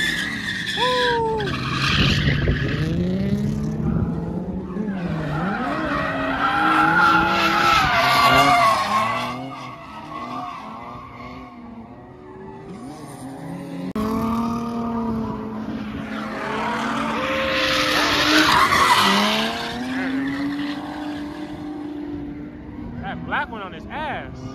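A supercharged LSX-swapped 240 drifts with long, loud tire squeal and roaring engine that swell, fade around the middle, then build again, while spectators shout and talk excitedly over it.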